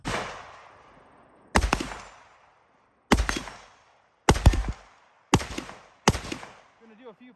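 A Bear Creek Arsenal AR15 with a 16-inch barrel and M-Lock handguard fires 5.56 NATO rounds in five loud, sharp outdoor shots. Each shot rings out with a decaying echo, the last ones coming in quicker succession.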